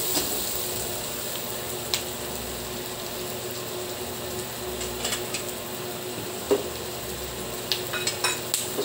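Pork ribs dropped into a pan with golden-browned garlic and onion, frying with a soft, steady sizzle under occasional clinks and scrapes of utensils, fairly quiet and close, no talking.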